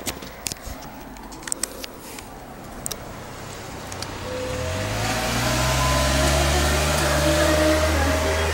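Car passing close by at the foot of a mountain range, outdoors, rising from quiet background with a few clicks into a loud sustained engine and tyre roar with a steady low hum that holds to the end.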